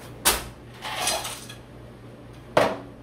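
Homemade dishwashing detergent is stirred in a small pot, making three sharp metallic clinks of a utensil against the pot with a softer scraping rattle between them, close and clear.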